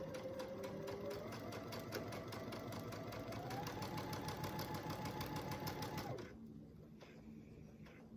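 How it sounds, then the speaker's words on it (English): A sewing machine stitches a quarter-inch seam along quilt pieces, a steady, fast mechanical whir with rapid needle pulses that runs close and loud for about six seconds, then stops. "So we are going to start with sewing a 1/4 inch seam allowance down this side."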